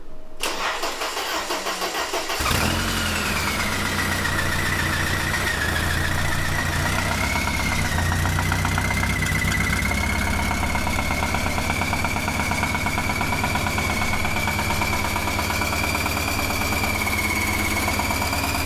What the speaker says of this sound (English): let's go ahead and start this car